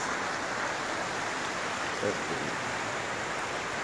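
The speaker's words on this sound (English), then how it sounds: "Waterfalls," Rushing water from a waterfall near a river in Zadar pours as a dense, steady roar throughout, with a brief voice surfacing faintly in the middle.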